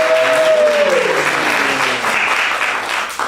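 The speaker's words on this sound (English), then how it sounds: "Let's hear a round of applause of which one we're going to go with." A live audience at a comedy show applauds loudly to vote for an option, a thick continuous burst of clapping with a brief vocal whoop near the start that slowly tapers off.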